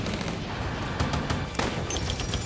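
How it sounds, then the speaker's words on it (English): Battle gunfire in a wartime D-Day invasion scene, a dense continuous clatter of rifle and machine-gun shots with sharper cracks standing out, loud and steady throughout with no voices. "Gunfire pierced the air, screams and shouts followed."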